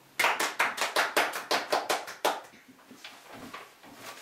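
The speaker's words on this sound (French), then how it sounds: "Applaudissons-le. Chaleureusement." A small audience claps to welcome a guest, about a dozen distinct, evenly spaced hand claps in a quick rhythm, close and clear, then tapering off into faint scattered sounds.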